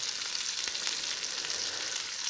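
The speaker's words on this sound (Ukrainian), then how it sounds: "Зараз одна сторона прожариться." A steak frying in a pan sizzles steadily and fairly loudly, a continuous crackling hiss with small pops and no voices.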